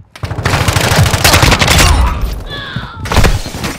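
Rapid automatic gunfire in Call of Duty: Modern Warfare II, loud, close bursts of shots with a short pause and then another burst near the end. Game effects sound alongside the shooting.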